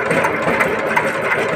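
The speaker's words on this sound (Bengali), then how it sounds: "একটা ভিতর থেকে একটা সাউন্ড আসছে, তো এই ইঞ্জিনটার কি পরিস্থিতি, কি প্রবলেম হয়েছে না হয়েছে" An engine with a suspected internal fault, awaiting a crank bearing change while still fitted, runs steadily with a fast, even mechanical clatter and a dense, continuous hum close by, with no talk.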